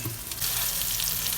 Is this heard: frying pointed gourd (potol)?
yes